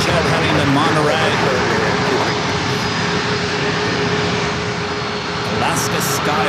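Alaska SkyWest jet airliner at San Diego airport, a loud steady engine roar under a commentator's voice, with continuous broadband rumble throughout.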